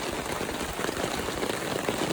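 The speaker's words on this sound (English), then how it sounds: "It is just heavy rain," Heavy rain pours steadily on a campsite, a dense, continuous hiss of drops striking surfaces close by, with no talking.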